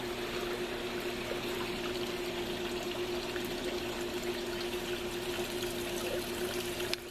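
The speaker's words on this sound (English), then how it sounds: "I just installed the new VFLEX system into this cleaner, and it's moving pretty good." A Hayward Navigator pool cleaner fitted with the VFLEX system runs underwater, giving a steady watery hum and trickle with a constant low drone, faint and even throughout with no talk.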